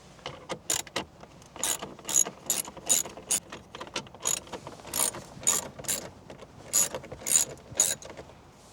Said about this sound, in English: we've got two more screws to take out